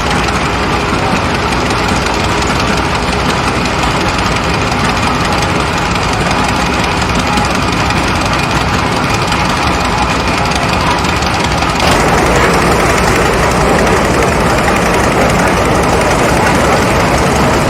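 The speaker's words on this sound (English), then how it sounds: "This engine here is a 22-horse Minneapolis." A 100-year-old 22-horsepower Minneapolis engine runs at a Case exposition show in Rollag, a loud, continuous heavy mechanical drone with steady low rumble and knocking throughout, growing slightly rougher near the end.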